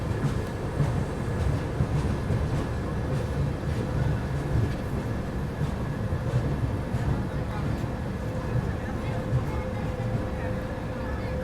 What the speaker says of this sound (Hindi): हमारी ट्रेन काशी विश्वनाथ एक्सप्रेस भी शाहजहाँपुर से डिपार्चर लेते हुए